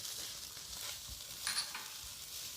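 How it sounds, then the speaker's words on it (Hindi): Samosa filling with garlic powder, salt, black pepper and crushed chili is sautéed in a pan, a quiet steady sizzle with a brief scrape of stirring midway. "ये सब कुछ डाल के हमने इसको थोड़ी देर सौते कर लेना है।"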